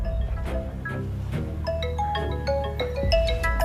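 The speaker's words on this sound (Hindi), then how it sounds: "और ये फोन किसको आ रहा देखिए" A mobile phone ringtone rings as a bright, melodic electronic tune of repeating notes, steady and fairly loud throughout with no talk over it.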